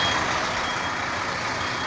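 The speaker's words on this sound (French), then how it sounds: "On passe pas entre les camions d'alimentation qui reculent sur la trémie du finisseur." Asphalt supply trucks back up to a paver's hopper on a road-paving site, their reversing alarms beeping steadily over a constant loud wash of engine and site noise.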